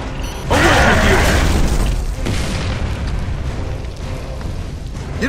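A frag grenade detonates in Gears of War: Judgment with a sudden loud boom, followed by a rolling roar of debris and rumble that fades slowly over several seconds.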